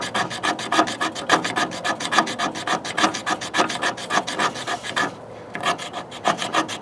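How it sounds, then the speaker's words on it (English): Rapid rhythmic rasping scrapes of a ferro rod being struck over fine wood shavings beside a solo stove, dozens of strokes in steady succession with one brief pause, close and fairly loud. "Get these fine shavings and we're going to hit it with the ferro rod."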